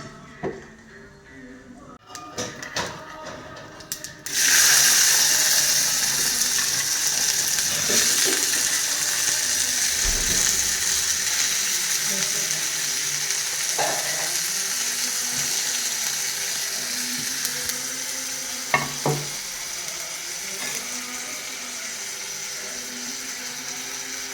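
Mustard seeds spluttering and crackling in a hot pan for a Kerala theeyal, a loud steady sizzle starting sharply after a few seconds of quieter kitchen sounds and holding with scattered pops to the end.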